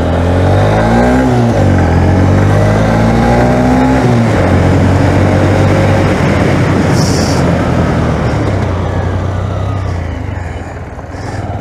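Loud motorbike engine revving up through rising pitch sweeps, then settling into a rough steady roar as it pulls away on a side street, close and continuous before easing slightly at the end.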